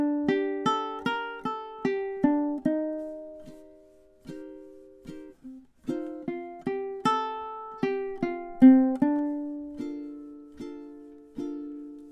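Solo ukulele picks a melody of plucked notes, each decaying quickly, in a steady lilting rhythm with a few pauses, close and clear.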